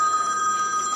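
A cell phone rings in a brief, steady electronic tone, clear and alone, in a conference setting.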